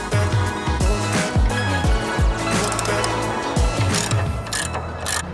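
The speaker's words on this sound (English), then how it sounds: "I need to get 2 wrenches to break it loose" Wrenches breaking loose a bolt on an Audi S4 sway bar: repeated metallic ratcheting clicks and creaks in bursts, close and fairly loud, with faint mechanical rattles between strokes.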